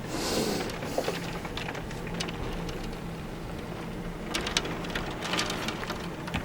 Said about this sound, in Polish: To jest normalnie burza, tylko że, że nie ma ulewy, tylko jest intensywny śnieg.